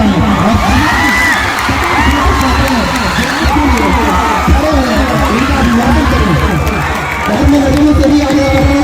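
Loud crowd of students cheering, whooping and clapping at a school event as a physics teacher is called to the stage, with dense shouting voices throughout.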